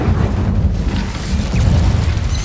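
An Incendio fire spell cast in Hogwarts Legacy lets out a steady, loud low roar of flame that rumbles evenly for a couple of seconds, with no pause or sharp break.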